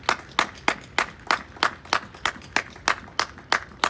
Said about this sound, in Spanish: Denle ese fuerte ese aplauso al Señor